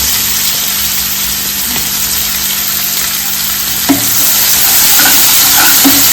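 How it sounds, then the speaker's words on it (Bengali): Onions fry in oil tempered with black cumin seeds, in the same pan as crisp-fried bhola fish for a mustard paste curry, making a loud, constant, close frying roar with a few spatula knocks and no speech. "কালো জিরে ফোড়ন দিলাম, তার মধ্যে পেঁয়াজ দিয়ে দিচ্ছি।"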